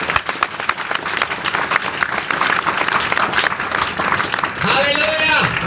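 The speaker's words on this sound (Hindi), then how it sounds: "ताली जोर से बजाएंगे।" Congregation at a Sunday Christian worship service applauding loudly, dense sustained clapping with voices mixed in, followed near the end by a voice rising over the crowd.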